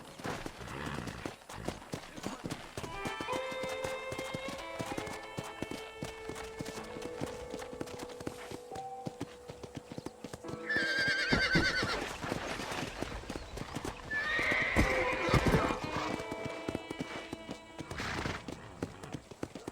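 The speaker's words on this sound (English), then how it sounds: "I picked out a fine horse for you. Giddy up!" Steady clip-clop of hooves trots along for a long stretch, with a horse whinnying loudly partway through, under a game-like ambient backdrop, in Red Dead Redemption.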